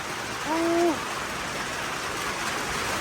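Heavy rain pours during a storm on the road between Borikhamxay and Khammouane in Laos, a dense, steady hiss throughout, with a short tonal sound rising briefly above it near the start.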